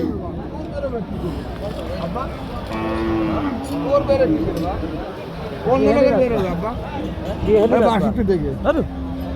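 Cows low repeatedly amid a noisy crowd, with several drawn-out moos over steady background chatter at a busy cattle market.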